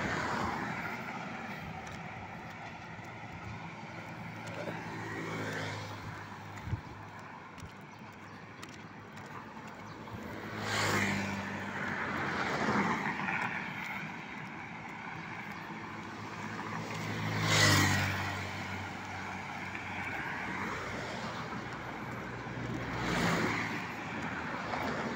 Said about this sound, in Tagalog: Highway.